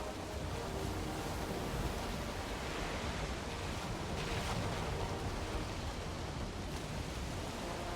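Wind and waves wash steadily around a sailing ship in Valheim, a broad, constant rushing roar of surf and gusts, loud and unbroken throughout with no talk.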